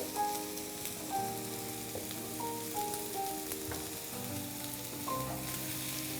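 Seasoned potatoes sizzle steadily in a pan, a constant close crackle and hiss with occasional louder pops and no voices.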